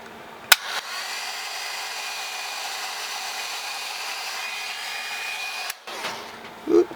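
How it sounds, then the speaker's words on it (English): A hot air brush runs with a steady, even whirring blow for most of the clip, switched on after a sharp click and cutting off near the end, followed by brief handling noises. "This is just a hot air brush in style, that's what it says"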